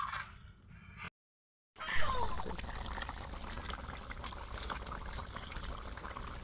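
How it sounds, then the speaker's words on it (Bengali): Water poured into a pangas fish curry in oil and chili gravy makes a steady, close gushing and bubbling wash after a short silent gap, with a few faint clinks on top. "এই যে আমি পরিমাণ মতো জলটা দিয়ে দিছি, বেশি জল দেওয়া যাবে না।"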